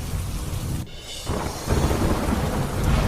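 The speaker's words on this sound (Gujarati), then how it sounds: "ઉત્તરાખંડમાં મેઘો અનરાધાર." Heavy monsoon rain in Uttarakhand hisses steadily across the whole stretch while deep thunder rumbles beneath it, with a brief dip before the downpour swells back, loud and close.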